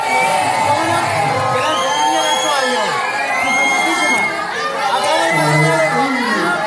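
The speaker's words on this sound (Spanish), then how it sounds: "Todos son pitidos, todos son gritos" A dense crowd in a theatre shouting and whistling all at once, loud and continuous, with overlapping voices and shrill whistles rising above the din.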